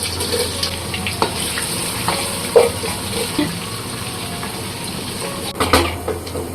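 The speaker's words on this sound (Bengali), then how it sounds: "বেরেস্তা করি" About a kilo of onions frying in oil for birista in a beef bhuna recipe, giving a steady, moderately loud sizzle with a few brief clatters of stirring and no talking.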